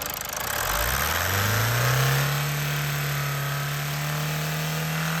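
A Mazda CX-5 2.2 diesel engine revs up as the throttle is opened, its pitch climbing over the first couple of seconds and then holding at a steady, raised drone, close by with no talk.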